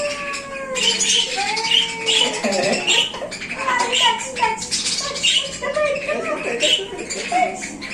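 Bird at a zoo giving repeated harsh squawks and chirps over several seconds, close by, mixed with people talking and a voice nearby.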